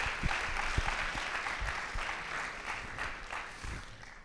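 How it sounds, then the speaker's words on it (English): Audience applause at a high school Women's History Month assembly, a moderate wash of clapping from a seated crowd with a few sharper close claps and low thumps scattered through it. "Another round of applause for our superintendent,"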